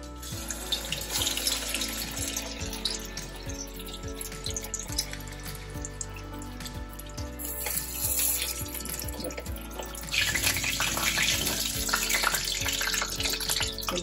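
Potato patties frying in hot fasting oil in a pan, a steady hissing sizzle with faint crackles throughout, growing louder and brighter toward the end.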